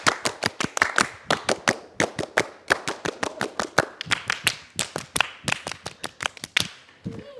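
Scout rhythmic clapping (tepuk pramuka), a fast patterned series of sharp close hand claps in grouped bursts, ending with a brief thump.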